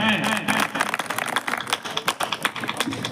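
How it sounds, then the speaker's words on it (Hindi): Audience applause at a Hindi poetry recital (kavi sammelan), a crowd clapping in a dense, irregular patter that carries on steadily for a few seconds. "एक बार इनके प्रयास के लिए जोरदार तालियां बजाइएगा।"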